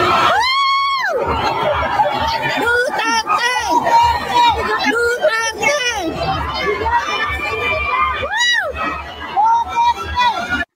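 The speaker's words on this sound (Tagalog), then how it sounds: "Yung sigawan dito." A crowd of Filipino overseas workers at a political rally in Singapore shouts and cheers. Loud, overlapping voices rise in repeated sharp whoops over a steady hubbub that lasts throughout.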